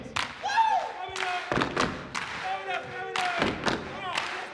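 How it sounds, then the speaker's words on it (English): A live dance-show audience claps in sharp, irregular bursts of slaps and thumps at a Step Afrika performance, with a performer's voice calling out between the claps. "Clap your hands."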